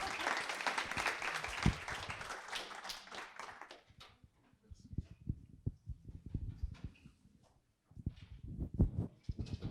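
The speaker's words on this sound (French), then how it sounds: "Oui, applaudissez, c'est toujours cool" Audience applause at the close of a French data-visualisation talk about school canteen menus, with scattered claps fading and then picking up again in a thinner burst near the end.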